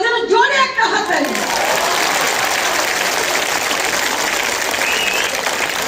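An audience in the hall at Mahajati Sadan breaks into loud, sustained applause after a brief voice at the start. The dense clapping fills the room evenly for several seconds.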